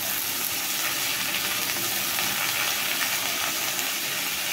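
Potato pieces and cauliflower florets fry in a pan for dal khichdi, giving a steady, dense sizzle that holds close and even throughout, with no voices.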